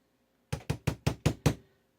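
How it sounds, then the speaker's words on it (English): Six sharp metallic taps in quick, even succession from a hammer and punch driving a pin out of a Smith & Wesson 469 pistol during disassembly, close and clear with no talk. "give that a couple of taps to get started"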